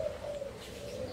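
A caged zebra dove (perkutut) gives a soft, sustained cooing note that holds steady for about a second, faint and close against a quiet background.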